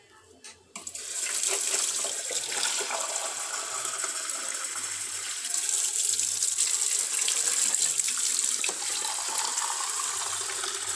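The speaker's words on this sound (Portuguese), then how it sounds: "Eu vou botar um pouquinho de água. Pode ser da concessionária mesmo." Tap water pours into a container in a steady, continuous hissing gush that starts abruptly after a brief quiet moment and runs close and clear without pause.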